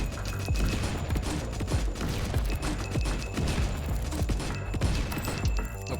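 Grenade launcher firing in a video game: a dense run of sharp, punchy blasts and booms, one after another in rapid succession, with clattering impacts layered throughout and no speech.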